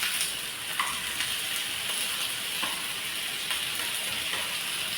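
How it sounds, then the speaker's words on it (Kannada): Masala frying in a pan on a gas stove for a mango salad, a steady close sizzle and hiss with faint stirring scrapes, and no voices. "ಚೂರು ಫ್ರೈ ಆಗಲಿ."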